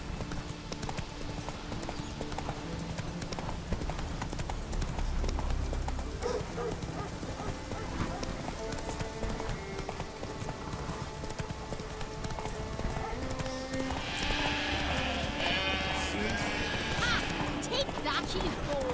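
Hooves of Roach the horse galloping in The Witcher 3, steady rapid clip-clop with a brief whinny, set against game ambience and music.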